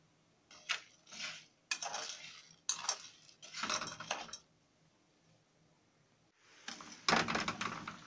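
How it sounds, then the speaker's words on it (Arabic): Spoon scraping and clanking against a pot while stirring carob pods with sugar as the sugar caramelizes, in several separate bursts of scraping with short pauses between, close and fairly loud. "بقلب الخروب مع السكر"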